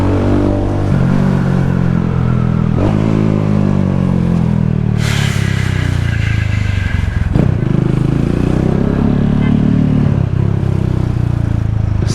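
A motorcycle engine with an aftermarket muffler revs and accelerates, its pitch climbing and dropping in repeated surges over a steady rumbling drone. It is loud and close, with brief clattery bursts between the revs.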